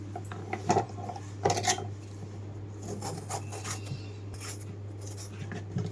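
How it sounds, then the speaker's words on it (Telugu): A knife scrapes and slices a bottle gourd thin while peeling it, producing close, quiet rasping strokes and clinks in irregular bursts over a low steady hum, with no talk. "ముందుగా అయితే సొరకాయ అయితే సన్నగా కట్ చేసుకుంటున్నాను, తొక్కంతా తీసేసి."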